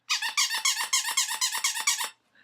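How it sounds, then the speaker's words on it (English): A smiley-face emoji dog toy squeaked about nine times in a quick, even rhythm, each squeak sharp and close, alone with no talking. "This is actually a dog toy. It should squeak, but it doesn't."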